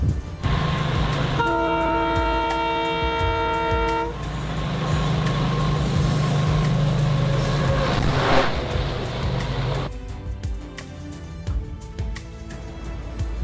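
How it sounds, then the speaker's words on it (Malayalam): A train at Tiruppur railway station in Tamil Nadu sounds a loud, sustained horn of about three seconds over steady rumbling rail noise, with more clattering movement continuing after the horn stops. "ഇതാണ് തിരുപ്പൂർ റെയിൽവേ സ്റ്റേഷൻ."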